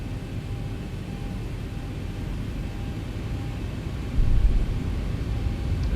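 Engines of a Zibo Boeing 737 in X-Plane 12 rumble steadily during the takeoff roll, a constant broad roar that swells slightly louder near the end.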